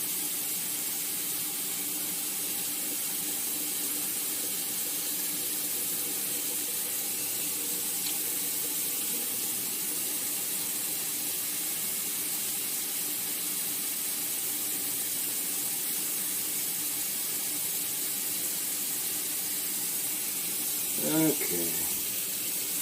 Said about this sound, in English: And I think I'm going to drain the chili peppers.